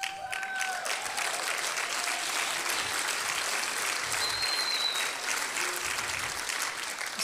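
Sustained applause from a conference audience at a faith event, steady and dense clapping throughout with faint crowd murmur, no voices on top.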